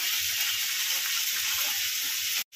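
Grated garlic and ginger fry in hot oil for a potato bhaji, giving a steady, close sizzle and hiss with faint stirring. The sound cuts out briefly at the very end, and no one talks.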